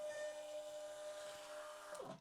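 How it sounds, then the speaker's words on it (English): A Gloryang Bluetooth thermal shipping label printer runs through a print of a few images, giving a steady mechanical whir with a faint tonal whine that stops abruptly near the end, heard close up with no talking. "so I'll just go ahead and print these few images here just for fun"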